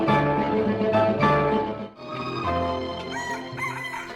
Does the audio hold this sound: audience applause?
no